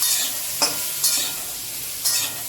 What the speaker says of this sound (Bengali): এবার ব্রকলি দিলাম, ব্রকলিগুলোকে একটু জাস্ট ভালো করে নেড়ে নেব